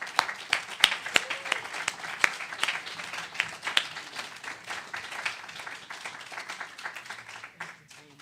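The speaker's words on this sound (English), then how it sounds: "would you please join me in a round of applause as she comes forward" A church congregation at a Sunday celebration claps as a woman comes forward, the applause sharp and scattered, tapering off over several seconds with some voices mixed in.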